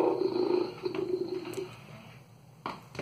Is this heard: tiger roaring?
yes